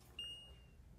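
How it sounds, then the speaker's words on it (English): A buzzer powered by a discharging capacitor gives one brief high tone that starts sharply, then fades and thins over about a second, fairly faint in a quiet room. "I want to hear that capacitor discharging on this buzzer"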